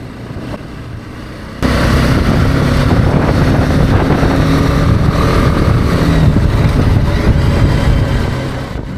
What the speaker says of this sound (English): Can you listen to my engine sound there and let me know if I'm in the right gear